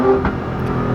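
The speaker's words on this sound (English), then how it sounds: "I'm pretty sure I found out how to make the truck backfire on command" A 2020 Ford Raptor pickup truck makes a small exhaust pop as it downshifts. The single short crack rises briefly over a steady engine drone.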